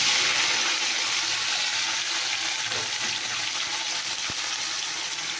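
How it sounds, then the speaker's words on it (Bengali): Sliced bitter gourd hits hot oil in a pan, giving a loud, steady broadband sizzle that runs unbroken throughout with no talking. "তো এখানে তেল গরম হয়েছে, এবার আমি করলাটা দিই"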